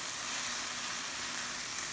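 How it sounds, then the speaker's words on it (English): Cauliflower rice fries in a pan with a soft, continuous hiss and sizzle, steady and faint for two seconds with no talking. "We add the cauliflower rice in there."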